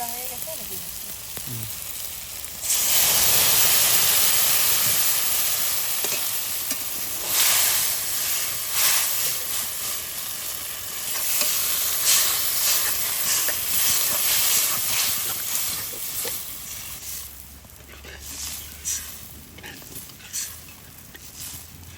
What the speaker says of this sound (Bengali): এবার সর্ষের জল দেওয়া হবে